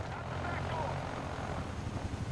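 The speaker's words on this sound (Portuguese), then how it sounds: "Boa que tem um helicóptero pra dar cobertura" A helicopter flies overhead in the Medal of Honor video game, a steady rotor drone heard at moderate distance under in-game battle noise.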